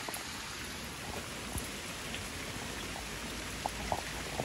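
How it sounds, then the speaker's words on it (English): Heavy rain pours down steadily onto a tree-covered yard, a dense hiss with occasional sharper drips and patters close by. "it's just where it's coming down so heavy that it hasn't got a chance to drain away"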